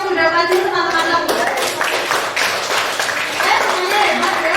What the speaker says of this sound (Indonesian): Tepuk tangan untuk yang sudah maju teman-teman kami.